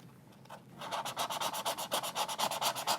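A razor blade scrapes adhesive off an iPad in a quick, steady series of close, rasping strokes that start softly and then repeat evenly, with no talking.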